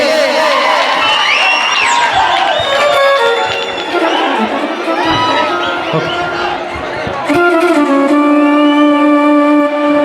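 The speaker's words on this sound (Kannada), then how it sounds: "ಚಪ್ಪಾಳೆ ಬರಲಿ" Audience at a Kannada devotional stage drama cheers and whistles as a performer is called onto the stage, a loud, continuous crowd roar with shouts throughout.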